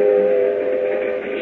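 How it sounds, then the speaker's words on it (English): A radio-drama train sound effect for a passenger train bound for Miami, heard as a loud, steady whistle-like tone over a rolling rumble, brief and alone. "Meanwhile, on a train to Miami."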